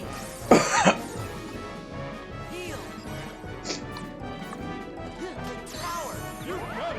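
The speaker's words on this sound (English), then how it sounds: "I'm coughing a little more frequently" One sharp, loud cough bursts out near the start, followed by quieter throaty rustling and faint background sounds.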